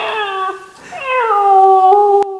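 Enabot Ebo Air 2 Plus companion robot playing its scared-mode sound, a clear synthetic whimpering cry with a pitch that slides and wavers, loud and close, ending in a short click.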